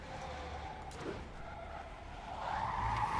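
Truck engine roar and skidding tire noise in the Spider-Man Remastered video game, a continuous drone with a brief screech near the middle that swells louder toward the end, with no talk.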